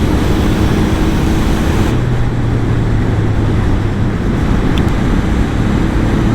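Honda NTV650 motorcycle on a test ride, a continuous engine drone mixed with heavy wind rush, with a low steady hum settling in partway through.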